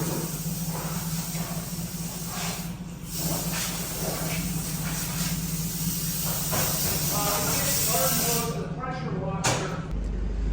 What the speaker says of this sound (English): Open up the garage door and just hit it with the air hose.